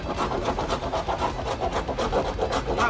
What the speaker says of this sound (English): See if we can't get some of that scraped off.